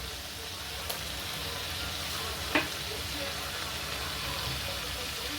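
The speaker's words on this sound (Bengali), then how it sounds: "মশলাটা কষা হয়ে গেছে তেল ছেড়ে দিয়েছে এই রকম অবস্থায় আমি দিয়ে দেবো কাজু পোস্ত আর চারমগজ বাটাটা" Spice paste of ground cashew, poppy and melon seeds frying in oil for a Bengali potol chingri dish, a steady close sizzle with a couple of light utensil clinks.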